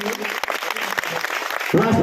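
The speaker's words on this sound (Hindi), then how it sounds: "अगर ये पंक्ति आप लोगों को अच्छा लगा तो एक बार जोरदार ताली हो जानी चाहिए" Audience claps break out at a Hindi poetry and speech event about daughters, a burst of dense applause rising near the end after a stretch of speech and scattered sound.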